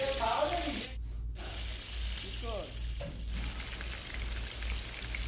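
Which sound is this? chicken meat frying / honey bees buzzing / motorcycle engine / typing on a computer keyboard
chicken meat frying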